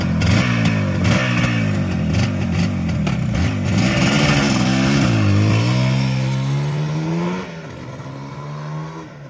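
A Yamaha RD400 motorcycle in original paint runs loudly and close, its engine revving and rising in pitch in steady swells before dropping back to a lower idle near the end.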